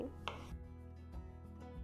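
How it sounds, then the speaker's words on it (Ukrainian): A few sharp knife chops through pickled cucumbers on a cutting board, spaced irregularly and fairly quiet, with no talking. "нарізаю мариновані огірки"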